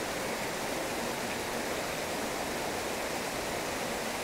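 Waterfall and flowing water at a site in Antakya, Hatay, with a tea garden and tables set over the water, give a steady, dense broadband rush that holds level throughout, close and continuous with no voices.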